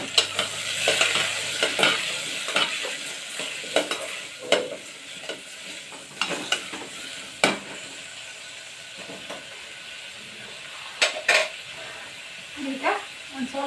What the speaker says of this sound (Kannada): ಇವೆಲ್ಲನೂ ಕುಡಿಸಿ ಆಮೇಲೆ ಚಲೋ ಹೊತ್ತಿನಿಂದ ಮಿಕ್ಸ್ ಮಾಡಬೇಕು